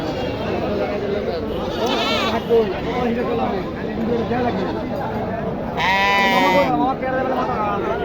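Sheep bleating at a crowded Qurbani livestock market, several loud, wavering calls over steady crowd chatter and nearby voices.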